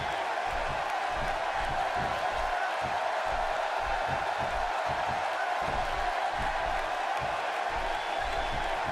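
A large arena crowd at the WWE TLC 2015 wrestling event, during a United States Championship ladder match, keeps up a dense, continuous roar and cheering, steady in volume throughout with a few thuds underneath.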